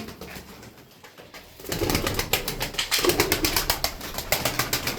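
Performing tumbler pigeons in a colorful flock flap their wings in a rapid series of sharp, close claps after a quiet opening, the bursts building into a repeated fluttering rhythm.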